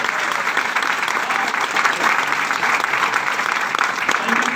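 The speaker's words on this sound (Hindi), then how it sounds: "तो सर को थैंक यू बोलेंगे तालियों का माध्यम से" An audience at a seminar claps for the speaker, a steady wash of applause from many hands that stays at an even level throughout.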